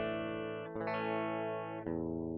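Clean electric guitar playing in Cubasis 3 with the insert effect bypassed, sustained chords ringing on loudly and alone, with two chord changes over a few seconds.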